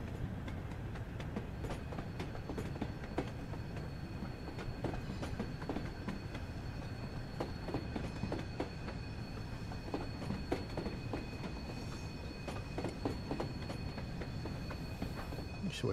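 Class 101 diesel coaches being towed as carriages behind an 8F steam locomotive make steady rumbling train noise from inside, with repeated clicks over rail joints and faint wheel squeal throughout.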